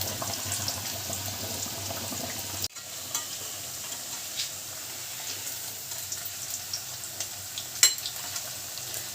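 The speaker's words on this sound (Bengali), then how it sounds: "তেল গরম হয়ে গেছে মা পকোড়াগুলো তেলের মধ্যে দিয়ে দিচ্ছে" Jackfruit pakoras dropped into hot white oil, a dense, even sizzle that keeps going close by, with a brief thump early on and small crackles and pops scattered through.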